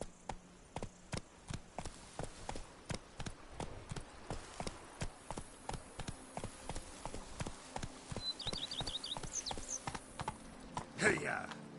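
Hooves of Roach, a horse in a Witcher video game, beat out a quick, rhythmic gallop of repeated clip-clops, with a few brief game sounds and a faint voice near the end.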